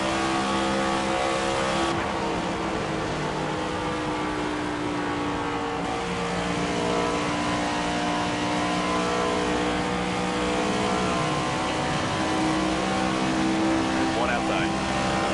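A car engine in the Fortnite video game drones and revs steadily at close range, a constant loud motor hum that runs under occasional talk for the whole stretch.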